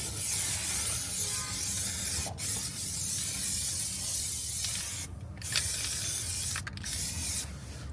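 Steady hiss of a spray gun laying a second coat of paint on a BMW M550i bumper, close and continuous with a few short pauses and no talk.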